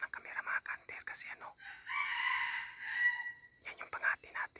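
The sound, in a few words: junglefowl rooster crowing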